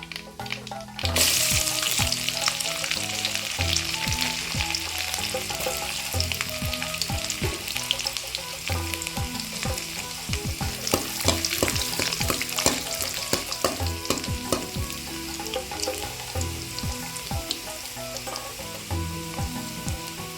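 Garlic frying in hot oil with spluttered mustard seeds for a bottle gourd and cowpea curry, a continuous close sizzle with crackling pops and occasional stirring scrapes, no talk.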